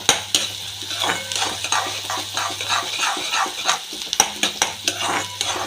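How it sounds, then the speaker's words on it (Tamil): Onions, tomatoes and green chillies sautéing in a pan for breakfast pasta, a continuous sizzle under repeated close scraping stirs and spoon clicks against the pan, with no voices. "இது வந்து நல்லா ப்ரௌன் ஆகிற வரைக்கும் நல்லா வதங்கிட்டோம்"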